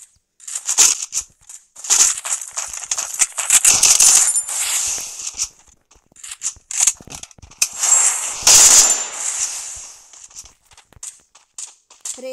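Bursts of video game gunfire, including shotgun blasts, crack out in irregular volleys with footsteps between them during a multiplayer shooter match, loud and close with quiet gaps.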